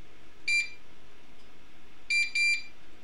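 A GE Concord 4 alarm panel, set to armed stay, gives short, high electronic beeps: one single beep, then a quick pair about a second and a half later, over a faint background hum.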